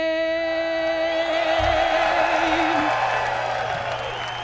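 A large crowd at the Indianapolis Raceway truck race, just after the national anthem, roars and cheers in a broad, sustained wash as the singer's last held note fades out.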